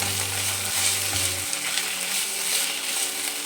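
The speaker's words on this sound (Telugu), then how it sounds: "అల్లం తెల్లగడ్డ పేస్ట్ ఒక 1/2 స్పూన్ వేసి మిక్స్ చేసుకోవాలి. పచ్చి వాసన పోయే వరకు ఫ్రై చేసుకోవాలి" Ginger garlic paste frying in a pan, a steady soft sizzle with light stirring throughout, close and even, with no voices.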